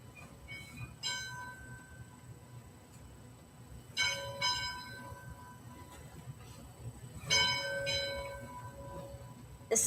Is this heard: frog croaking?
no